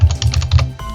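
Quick, close clicking of fingers typing on a computer keyboard, about half a dozen crisp keystrokes in a fast burst followed by a softer final press.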